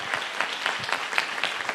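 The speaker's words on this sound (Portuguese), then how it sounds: "Vamos aplaudir esses irmãos que tiveram essa escolha hoje" A church congregation claps in a soft, steady patter of many hands, fairly quiet and even, with no talking over it.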